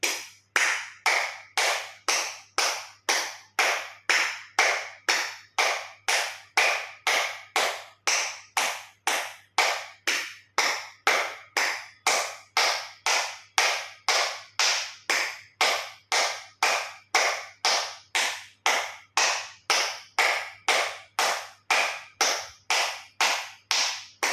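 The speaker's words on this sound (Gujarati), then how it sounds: "એક્યુપ્રેશર તાળી પૂરેપૂરા હથેળી અને આંગળા અંગૂઠા બધું ટચ થાય રીતે જોરથી 50 વખત તાળી આપીશું" Fifty loud full-palm acupressure claps, fingers and thumbs meeting, struck in a steady even rhythm, close and crisp with no talking.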